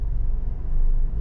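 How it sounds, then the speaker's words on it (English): A Jeep Renegade or Compass with a worn driver-side top motor mount shudders in reverse gear, a steady low rumbling vibration heard from inside the car, continuous and fairly loud with no talk. "hopefully you can hear that there's a lot of shaking going on in this car"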